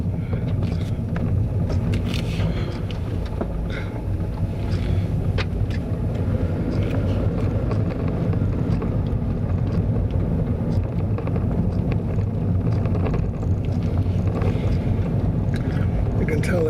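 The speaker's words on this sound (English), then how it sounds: "now the car is rubbing into the vegetation on my left" A car crawls along a straight old railway line bed toward a mineral railway incline, its engine rumbling steadily while the body brushes and scrapes through roadside vegetation.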